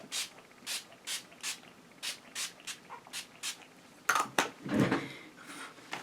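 Wet n Wild Photo Focus setting spray misted in short, close bursts, about a dozen hissing sprays in a steady rhythm, followed by a few louder rustling and clattering handling sounds.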